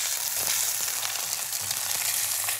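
Red mullet fillet frying in a pan, a steady close sizzle and crackle running through without pause, with faint scrapes of stirring.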